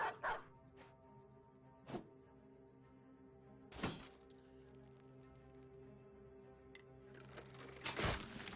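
War dogs in the Battle Brothers video game give a few sharp, separate barks several seconds apart over a steady droning battle ambience, with faint thuds in between and no speech.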